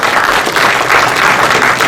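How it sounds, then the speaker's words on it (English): A crowd at a community launch event gives a speaker a big round of applause, dense and continuous clapping filling the room from start to finish. "give him a big round of applause please."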